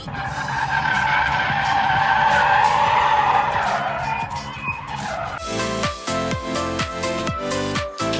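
Tires skid and squeal loudly on a racetrack in a car racing video game played at the SEMA show, a long continuous screech followed by engine and music-like tonal noise.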